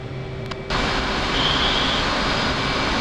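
A military aircraft taxis toward the runway, its engine giving a loud, steady roar with a broadband whine that swells after a brief click and holds at a constant level, with no voices.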